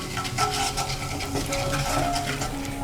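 Cumin, asafoetida and turmeric powder being stirred in hot oil in a pan for a Gujarati raw tomato and chili sambharo, with steady scraping and light sizzling, close and continuous, no talking.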